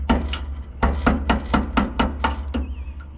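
Nine or ten hammer blows land on a mower part in a steady, fairly rapid rhythm, each a dull knock with some ring, over a low engine-like hum.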